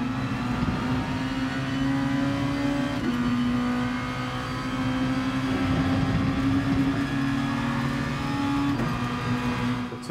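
A Super GT race car on racing hard tyres laps the Tsukuba circuit in a racing video game, its engine droning steadily with pitch shifts through gear changes, loud and continuous with no talk.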